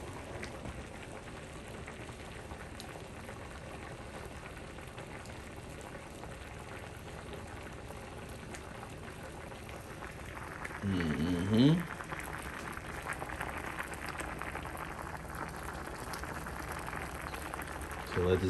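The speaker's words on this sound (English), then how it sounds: "So let this boil for another couple more minutes." Beans boiling in a Ninja cooker, a soft steady bubbling hiss throughout that swells louder and rougher near the end, with a brief clatter partway through.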